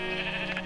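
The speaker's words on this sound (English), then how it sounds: "oh, sheep!" A single short sheep bleat from the Minecraft video game, clear and close, heard on its own.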